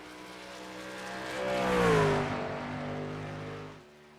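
An oval racing video game car, set at Texas, passes by with a rising then falling engine whine. The sound grows louder toward the middle of the pass and then fades, with no voices over it.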